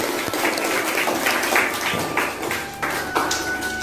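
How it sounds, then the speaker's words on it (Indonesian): Classmates in a seventh-grade civics lesson clap for a student, a brief scattered burst of hand claps and taps in a room, fairly close, with a faint voice partway through. "Tepuk tangan untuk Khairul."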